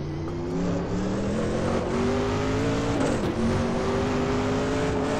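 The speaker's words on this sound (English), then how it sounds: "Aggressive sounding rev limiter. It really does not want you to hit it." Race car engine in the Assetto Corsa racing game held hard against its aggressive rev limiter, a loud buzzing drone with rapid stepped harmonics and brief dips as revs bounce, no talk over it.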